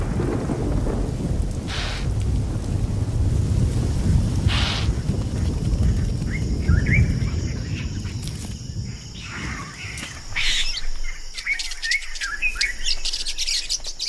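A December rainstorm in southern Africa's Zambezi region, with steady rain hiss and rolling thunder rumbles, while birds chirp and call repeatedly over the top, growing clearer as the rumble eases toward the end.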